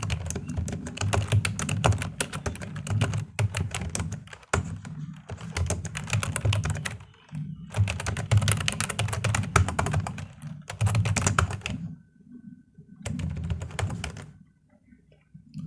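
Fingers type on a computer keyboard, close up, in quick bursts of clattering keystrokes broken by brief pauses and ending in a longer quiet stretch.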